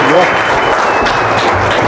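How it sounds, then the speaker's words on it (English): Audience applause greeting a speaker as he takes the stage, a dense, steady wash of clapping that fills the whole two seconds at close range, with a few cheers mixed in. "Give him a round warm of applause."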